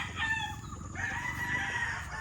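A battle stag rooster crows nearby in two drawn-out calls, the second longer and steadier, over a low background murmur.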